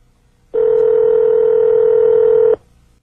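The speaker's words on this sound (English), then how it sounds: "Use the knob to select the digits in the number you wish to dial" Car phone in a 1994 BMW 7-Series E38 gives one steady electronic tone, clean and loud, lasting about two seconds before cutting off.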